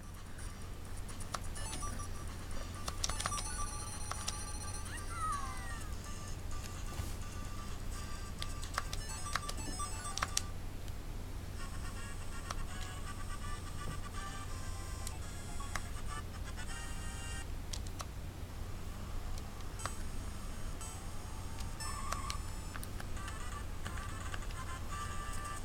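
Super Mario Kart plays on a GCW Zero handheld, producing steady chirpy game music and beeping effects with a constant low engine-like hum, moderately loud and without a break.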